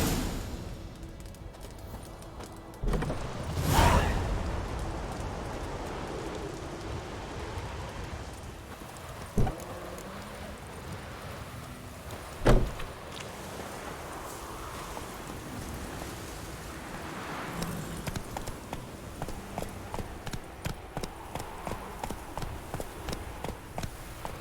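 Roach, Geralt's horse in The Witcher 3: Wild Hunt, trots along with a steady, soft clip-clop of hooves at moderate distance, punctuated by a few sharper thuds over a faint ambient wash resembling surf.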